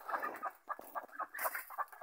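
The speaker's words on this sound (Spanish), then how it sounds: "¿Habéis visto un chaparro lleno de gallinas?" Hens clucking at dusk as they roost in a holm oak tree, a rapid run of short, soft clucks and squawks at moderate distance with no talk.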